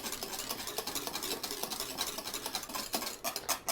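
A pot of custard cream sauce for blueberry pudding is whisked steadily, giving a close, continuous scraping and rattling of the whisk against the pot with rapid rhythmic strokes, growing busier toward the end.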